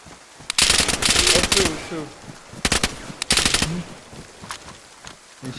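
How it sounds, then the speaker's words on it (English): Automatic gunfire rings out in the video game DayZ on PS5, with loud, close bursts of rapid shots separated by short pauses and a few scattered single rounds, while a player talks at times. "I let off shots too."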